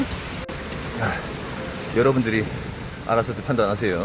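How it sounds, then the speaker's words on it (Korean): Hail falls outdoors in February during a thunderstorm, a steady soft patter heard close by beneath someone speaking throughout. "아래 보이시죠? 우박이네요."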